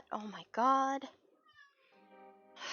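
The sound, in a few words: cat meowing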